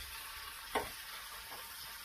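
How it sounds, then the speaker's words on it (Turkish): Red peppers fry in a pan with a steady hiss of sizzling oil. A soft clink or stir lands midway, and no one speaks. "Bu da her zamanki vazgeçilmezimiz kırmızı biber kızartması."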